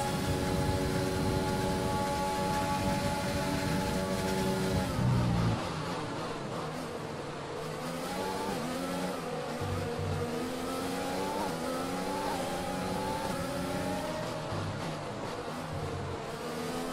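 Formula 1 race car engines whine and buzz in F1 2020 at the Russian Grand Prix, a steady high-pitched drone with rising and falling revs as cars accelerate, sustained and continuous throughout.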